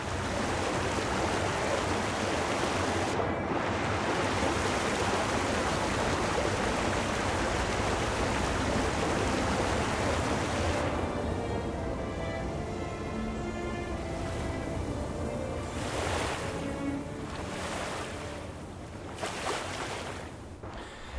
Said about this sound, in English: You actually have to jump down the waterfall.